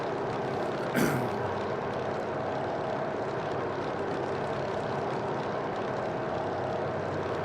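Inside the cockpit of a Grumman F3F, the radial engine and propeller roar at steady high power for a flyby, a loud continuous drone with one brief rushing burst near the start.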